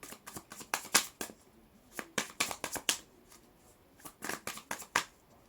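Tarot cards shuffled and drawn by hand, crisp papery riffles and slaps in quick clustered bursts with short pauses between, close and fairly clear with no voices.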